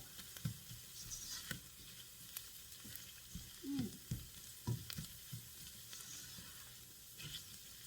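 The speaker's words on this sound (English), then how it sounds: "this is kind of like when you're gonna like toast the seasoning, you know, the Italian seasoning" Italian seasoning toasting in a pan, a faint steady sizzle with soft crackles and an occasional scrape of stirring, close but quiet.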